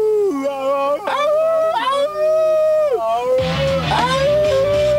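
Dogs in a frozen tundra let out loud, close, wavering howls that rise and fall over several seconds, while a person howls along with them in imitation.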